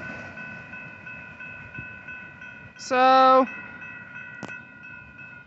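Union Pacific locomotives lead a northbound intermodal freight train with tanker cars, giving a steady tonal drone and rumble as it passes. A voice speaks briefly in the middle.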